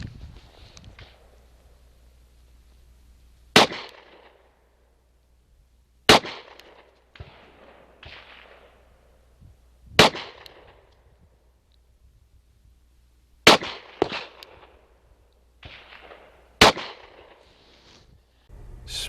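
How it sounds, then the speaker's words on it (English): Springfield XDS pistol fired outdoors after a factory recall repair, with six sharp, loud single shots spaced irregularly a couple of seconds apart, each followed by a brief echoing tail and quiet rustling between. "let's take the first shots post-recall"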